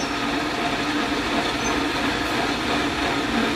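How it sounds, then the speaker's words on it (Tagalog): A water pump gives a loud, steady mechanical whir and rumble that runs continuously without a break, close by, with no talking over it. "papansin nyo yung tunog ng ating water pump"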